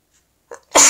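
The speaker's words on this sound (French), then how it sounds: "Alors, j'ai envie d'éternuer" A single loud, close human sneeze bursts out after a brief sharp inhale.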